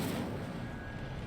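A fire spell being cast in the Hogwarts Legacy video game produces a brief, dense whooshing roar of flame, broadband and fairly loud, lasting about a second with no talking.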